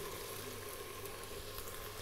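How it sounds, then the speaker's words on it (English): Onion dropped into a hot pan while cooking mutton aloo gosht, a soft, even sizzle holding steady and fairly faint throughout. "Let's get that onion and drop it in."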